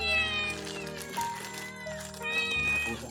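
A cat meows up close twice, drawn-out and plaintive, with a gap between the calls and some faint background noise.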